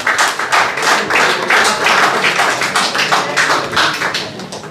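Loud, dense applause from an audience at an Eid Milan mushaira of Urdu poetry in London, welcoming the poet Noor Shama Noor to the stage, steady and sustained throughout.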